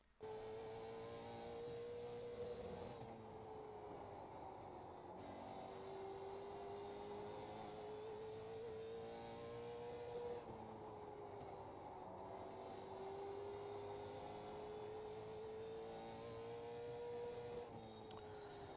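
A Late Model Stock race car engine from iRacing drones loud and continuous on a fast qualifying lap around South Boston, its pitch rising and dipping in repeating waves through each straight and corner, with no talking.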